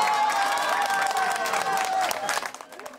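Citizens gathered around a TV watching the impeachment vote break into applause and cheering at news that it passed, a steady crowd roar with clapping throughout that thins out toward the end.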